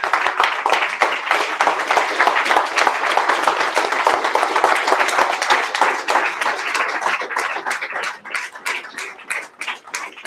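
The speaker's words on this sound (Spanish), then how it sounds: "Denle un aplauso a Dios." Sustained applause and clapping from a church congregation at a worship service in Cali, loud and dense throughout, thinning into more distinct individual claps near the end.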